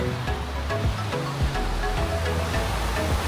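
Gentle ocean waves washing onto the sand at Waikiki beach in Hawaii, a soft continuous rushing surf with low rumbling swells, close and steady without speech.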